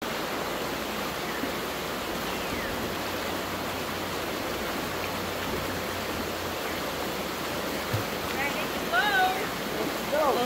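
The Ayaas River, flowing from Mt. Banahaw in Quezon Province, Philippines, gives a steady broadband rush of running water, moderately loud and continuous, with brief voices near the end.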